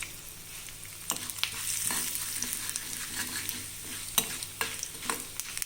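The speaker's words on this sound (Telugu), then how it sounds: "కొద్దిగా మినపప్పు ఎర్రగా వేగాలండి." Urad dal, mustard seeds and a dried red chilli frying in hot oil for a tempering, with a soft continuous sizzle and occasional crackles and a few stirring clinks, fairly quiet and with no talking.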